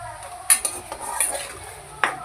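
Prawns tossed with turmeric and salt into masala in a pan for a prawn ghee roast, giving soft stirring scrapes with a couple of sharper clinks of a spoon against the pan, close by.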